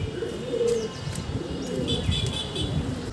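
Pigeons coo softly and repeatedly nearby, their low throaty calls overlapping with a few higher chirps against a steady background hum.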